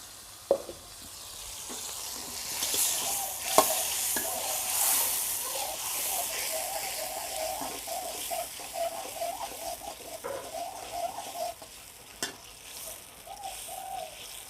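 Sauce reduces in a pan with a steady frying sizzle, gentle bubbling and occasional stirring scrapes, close and fairly quiet with no talking over it.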